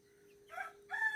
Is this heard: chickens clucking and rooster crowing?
yes